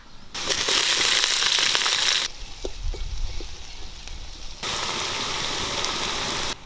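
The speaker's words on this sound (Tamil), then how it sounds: "அம்மிக்கால இடிச்சு பூண்டுப்பா." A stone grinder pounds garlic against stone in a few dull, irregular knocks, set between bursts of loud hissing like frying or running water, during village cooking of turkey berry curry.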